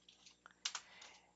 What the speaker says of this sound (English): So I'm gonna type it in here